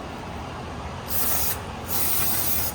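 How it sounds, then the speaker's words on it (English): Brake cleaner sprayed onto front brake parts of a 2020 Jeep Renegade during a pad replacement, two close hissing aerosol bursts following a quiet start, with no one talking. "I'm just going to clean these with the brake cleaner."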